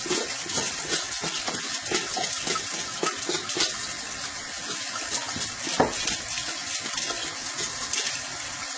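Warm water runs steadily from a kitchen tap, a continuous splashing hiss with occasional knocks and scraping as food is scraped under the stream, fairly close and loud.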